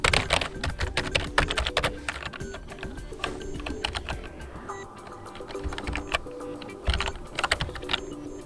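Rapid clattering keystrokes on a Corsair K55 RGB Pro XT keyboard, continuous and close, with occasional louder key presses and no voices.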